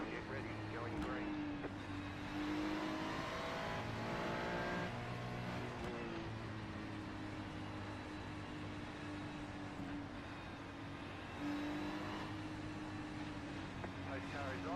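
Race car engines in a racing video game drone steadily through the first lap, a continuous layered roar with shifting pitch as cars accelerate, with a voice talking over it.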